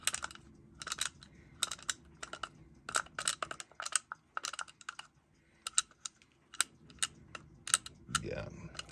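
A bad bearing in a vintage Klein part being turned by hand gives close, dry, irregular clicking and ticking in quick clusters, quiet overall, ending with a brief soft rustle.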